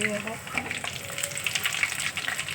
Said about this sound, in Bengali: আর এই যে কড়ায় সাদা তেল দিয়েছি আর ঘি দিয়েছি আর এই এলাচ দারচিনি লবঙ্গ ফোড়ন দিলাম